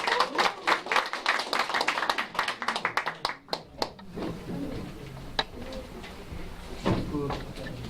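Audience at a Korean funeral-culture association agreement ceremony clapping in a burst of sharp, uneven hand claps that thins into scattered claps and room noise, with some talking.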